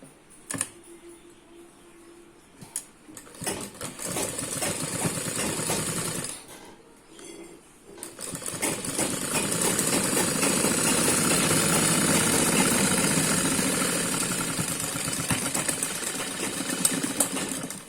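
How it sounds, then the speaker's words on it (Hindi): A sewing machine stitches along a collar for an umbrella frock, running in short bursts at first and then in a long sustained run, close and fairly loud, with clicking handling noises between. "अब हम इस पर एक सिलाई लगा लेंगे।"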